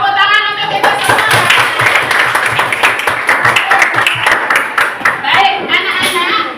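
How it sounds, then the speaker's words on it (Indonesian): A classroom of schoolchildren claps hands together in a loud, continuous patter of close, rapid claps, with children's voices mixed in. "Tepuk tangan untuk kita semua"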